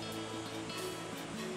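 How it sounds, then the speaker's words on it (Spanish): Calm, gentle sea waves wash softly at Playa Castillo Grande beach in Cartagena, a low steady distant rumble of mild surf. "Esta es una playa de aguas tranquilas, es decir, que el oleaje no es muy fuerte"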